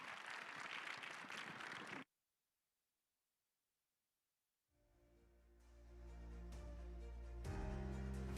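An audience applauds panelists at a space conference opening ceremony, with dense clapping for about two seconds, then silence, then music swelling up.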